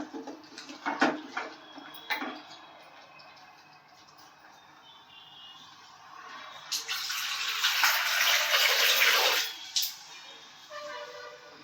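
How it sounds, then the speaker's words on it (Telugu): A cup of water poured into a pan for a cashew paneer curry makes a splashy gush that swells over several seconds and then stops abruptly, following some utensil clatter and a voice. "ఇప్పుడు 1 కప్పు వాటర్ పోసుకోవాలి."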